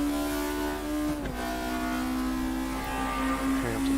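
A naturally aspirated touring car engine from RaceRoom Racing Experience holds a loud, high-revving drone, dropping sharply with a shift and then pulling back up, constant and close with no voices.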